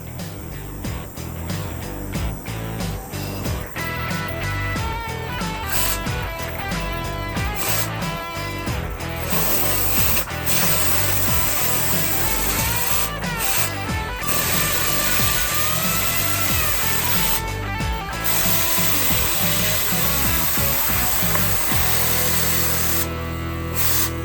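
An air compressor runs continuously in a garage during an LS 6.0 swap on a C30 truck, mixed with loud tool noise, a rough grinding and spraying texture with abrupt bursts and pauses, and no voices.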